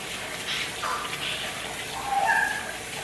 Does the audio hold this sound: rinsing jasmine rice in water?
yes